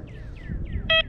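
XP Deus II metal detector sounding its tone on a coin target, a few faint falling chirps followed by one loud short steady beep, close up.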